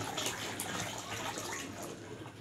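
Water pouring steadily into a large container or barrel of homemade liquid dish soap, a continuous close splashing rush with no talk.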